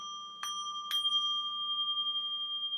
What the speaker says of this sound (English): this one is a milled Japanese gong